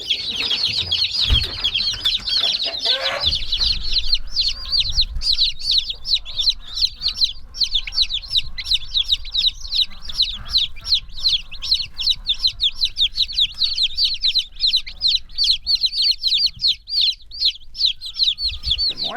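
Many young chicks under a heat lamp on a market farm, their dense, continuous high peeping and clucking filling the space up close without pause, with no talk.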